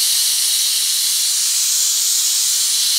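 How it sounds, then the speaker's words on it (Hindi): Pressure cooker releasing steam while cooking lentils, a loud, steady, unbroken high hiss held close for the whole stretch with no speech. "इसको 12 मिनट का मैंने प्रेशर कुकर लगाया है"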